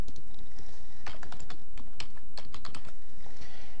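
Fast, irregular keystrokes clatter on a computer keyboard in bursts of clicks at close range, with short pauses between runs of typing and no voices.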